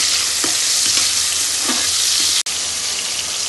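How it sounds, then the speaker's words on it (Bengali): Pineapple frying in a pan with cinnamon and cardamom, a steady close sizzle with occasional stirring scrapes throughout, no talking. "এখানে আমার দারুচিনি আর এলাচটা রেখেছি, এটা আমি দিয়ে দিলাম। এবার আনারসটাকে দিয়ে দিব। আনারসটা দিয়ে একটু ভেজে নিব।"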